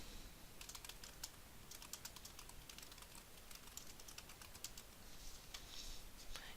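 Keys on a computer keyboard click in a quick, irregular run as a file name is typed, faint and steady with light background hum and no voices.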